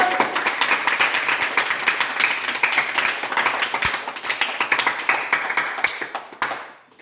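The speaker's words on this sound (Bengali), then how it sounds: "তো সবাই একটু জুড়ে হাততালি দাও।" A group of children claps together at a marriage anniversary celebration, a steady, sustained round of many hands that keeps going for several seconds before quickly fading out.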